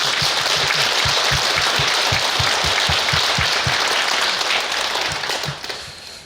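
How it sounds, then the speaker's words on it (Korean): A church audience at a parish leaders' education lecture claps together after the talk, loud sustained applause with some rhythmic unison claps early on, tapering off toward the end. "열심히 하신 우리 모두 위해서 박수 한번 칠까요?"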